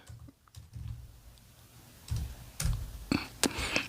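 Keys tapped on a computer keyboard while entering a zip code for advance movie tickets: scattered soft clicks, then a denser burst of nearby keystrokes toward the end, fairly quiet.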